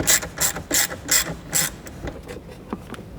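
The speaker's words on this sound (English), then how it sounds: "We'll go ahead and use that extension to remove these now." A ratchet wrench on an extension backing out radio mounting bolts in a 2005-2015 Toyota Tacoma dash, five quick clicking bursts in a steady rhythm, then a few slower, fainter clicks, close and clear with no talking.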